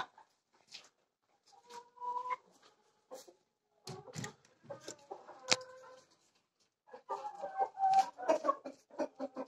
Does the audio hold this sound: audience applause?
no